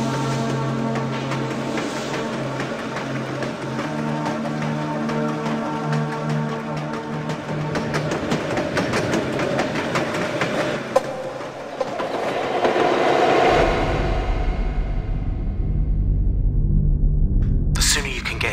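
Train ride in the video game Dark Fall: The Journal: a loud, steady rail rumble with rhythmic clattering and tonal hum, shifting to a deeper, darker rumble near the end.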